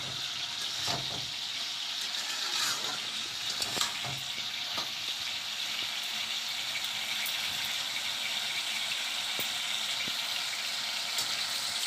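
Vegetables stirred in a pan while oil heats, a steady soft sizzle with occasional scraping clicks from the spoon throughout, moderately close and without talk.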